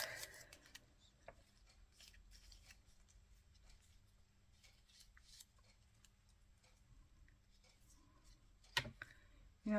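Scissors snip paper cutouts for a gluebook in short, sparse cuts and rustles, close and fairly quiet, with a louder handling noise near the end.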